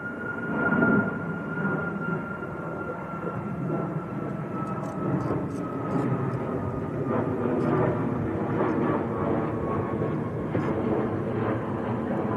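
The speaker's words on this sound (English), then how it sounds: "Ryanair from Faro that's just done the go around" A Ryanair airliner from Faro, climbing away after a go-around at Manchester Airport, gives a steady, moderately loud engine roar with a whining tone that holds throughout.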